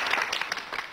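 Audience applause at a staged competition event in a Chinese comedy drama, a steady dense clapping lasting the whole second at moderate loudness.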